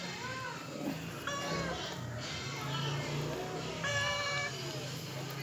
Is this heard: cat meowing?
yes